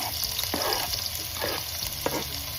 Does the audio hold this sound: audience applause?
no